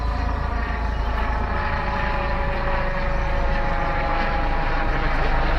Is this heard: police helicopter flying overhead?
yes